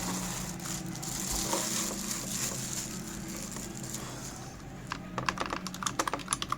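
Close, clattery typing on a Mini Keyboard K-1000 with noisy keys, first a steady run of keystrokes, then a burst of sharp, separate clicks near the end, with nobody talking.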